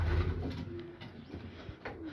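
Pigeons cooing inside a loft of racing pigeons, soft low repeated coos with some faint shuffling, fairly close and steady, no talking.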